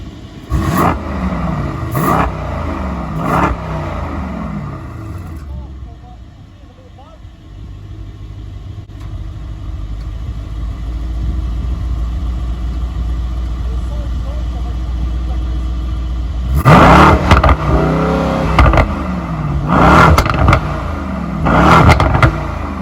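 A Mercedes-AMG E63 S Edition 1 engine, 603 hp, with exhaust valves closed, revs sharply a few times, settles into a low, muffled idle, then revs hard again in bursts near the end.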